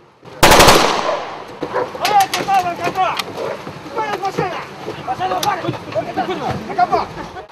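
A loud rapid burst of gunfire opens at a special forces training camp, followed by sporadic shots and dog barking mixed with background voices.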